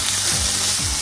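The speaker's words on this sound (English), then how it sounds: "Oh, do you hear that sizzle?" Steady crackling sizzle of bacon frying in a pan for carbonara, loud and close, with faint stirring scrapes.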